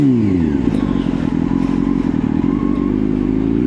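A motorcycle ridden at steady speed brakes harder during a braking drill, with a loud, close engine drone and faint clatter and scraping running throughout.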